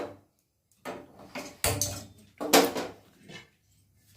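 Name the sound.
flat griddle pan (chatu) being placed on the stove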